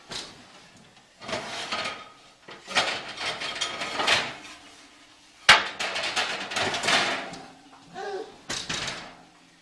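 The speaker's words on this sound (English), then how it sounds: "So I've got my pizza stone in the oven. So I'm going to pull that out." A hot pizza stone is pulled out of a home oven and set onto a peel, with metallic rack scrapes, knocks and a sharp clack midway, close and irregular.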